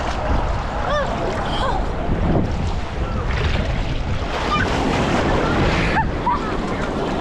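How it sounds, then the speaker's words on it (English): Ocean surf breaks on a beach in Lisbon, Portugal, a continuous loud wash of waves mixed with heavy wind buffeting the microphone, with faint voices and a distant shout in the background. "Where did these waves come out of nowhere?"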